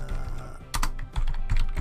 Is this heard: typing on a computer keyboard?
yes